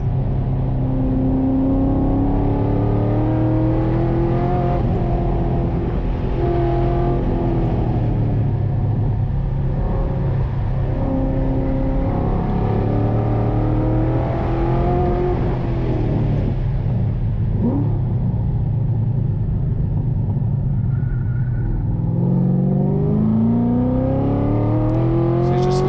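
A 650+ hp naturally aspirated Corvette C6 Z06 accelerating hard on the Thunder Hill West race track, its engine roaring loud and close for the whole stretch, pitch climbing through the gears with brief drops at the shifts.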